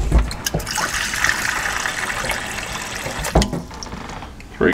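Water is poured by the cupful into an Instant Pot for Spam macaroni and cheese. A continuous, fairly loud gushing splash runs throughout, with a few brief knocks and clunks near the start and middle.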